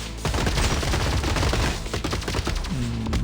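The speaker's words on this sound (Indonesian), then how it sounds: "Machine gun kita di belakang." Rapid bursts of machine gun fire in a video game, loud and close, with overlapping shots and a fusillade-like rattle throughout.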